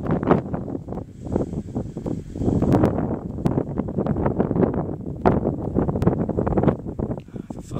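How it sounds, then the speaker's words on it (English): Gusty outdoor wind buffets a microphone, producing a continuous, close, rumbling roar with uneven surges and dips throughout. "the wind is fucking me up."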